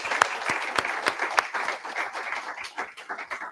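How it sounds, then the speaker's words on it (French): An audience applauds steadily at a corporate event celebrating its product teams, the dense clapping carrying a few sharper, louder claps that stand out near the start and fading a little toward the end. "je voudrais encore une fois faire un tonnerre d'applaudissements à toutes les équipes produits"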